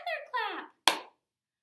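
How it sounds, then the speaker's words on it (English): A single sharp hand clap rings out alone after a voice, part of a clap-clap-snap rhythm pattern, close and crisp with a short decay. "Another clap!"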